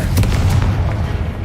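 A Confringo fire spell blasting in Hogwarts Legacy: a loud, booming burst with a few sharp pops at the start, then a sustained rumbling roar.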